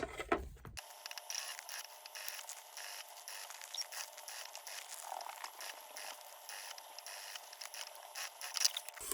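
A sewing machine runs slowly and steadily, its presser foot riding the raw edge of a sticky, stretchy vinyl clutch exterior. It gives off a continuous close mechanical patter with no talking.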